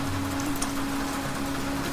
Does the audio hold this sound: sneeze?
no